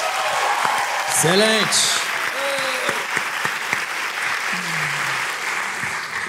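Comedy show audience applauding for a comedian, a steady roar of clapping throughout with brief voices and a short spoken word over it.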